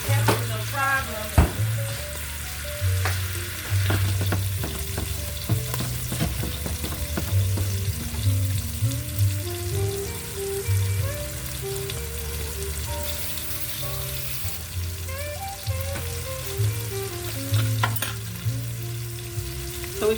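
Garlic sizzles in a hot pan for lemon piccata chicken, a steady close frying crackle with occasional stirring scrapes and a low hum beneath, and no one speaking.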